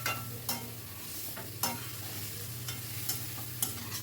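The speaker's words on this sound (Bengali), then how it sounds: "ভেজে রাখা আলুটা এর ভেতর দিয়ে দিচ্ছি, দিয়ে আবারও সব কিছু ভালো করে মিশিয়ে নিচ্ছি" Spatula stirring fried potatoes into a cooked-down spice masala in a pan, with repeated scraping strokes over a steady low sizzle, close and moderately loud, no talking.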